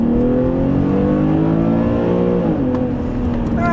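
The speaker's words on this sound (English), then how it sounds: "I still love how this thing pulls a red line" A 2012 Infiniti G37x sedan engine revs hard toward redline, a loud, close, rising drone that climbs steadily and then dips briefly as the gear changes.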